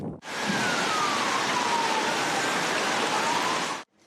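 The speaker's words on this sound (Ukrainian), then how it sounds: "турецькі та сирійські міста наповнені скреготом металу, виттям сирен та гуркотом будівельної техніки" A wailing siren in an earthquake-hit Turkish city, one loud continuous tone slowly sliding in pitch over steady broadband noise, starting and stopping abruptly.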